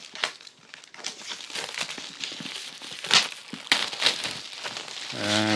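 Cardboard tear tag on an Oculus Quest 2 box being pulled open, a run of close, dry crinkling and ripping bursts with sharp tearing snaps, ending as a voice starts speaking.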